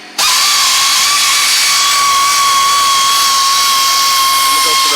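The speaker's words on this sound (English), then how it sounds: "we're getting these bolts off right now" A power tool works on bolts of a transmission under repair, giving a loud, steady high-pitched whine that holds constant after a brief start, with no clear break.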